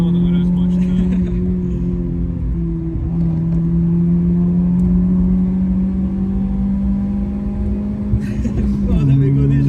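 A Vauxhall Corsa B driven at full throttle on a national-speed-limit back road, its engine droning steadily as it climbs through the revs, then bouncing off the limiter near the end, loud and continuous from inside the car.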